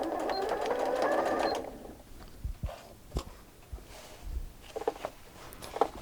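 A sewing machine stitches a zipper in a burst of fast, steady running for about a second and a half, then stops, leaving only faint handling clicks and bumps of fabric being adjusted.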